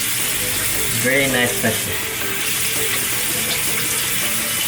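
Water runs steadily from a tap into the sink of a casino resort hotel room, a constant hiss heard close by while a person speaks briefly over it.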